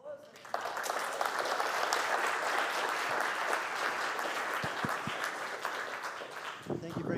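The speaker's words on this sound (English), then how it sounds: "let's give her a big round of applause." A crowd applauds steadily for about seven seconds, a dense sustained clatter of many hands clapping, fading slightly at the very end.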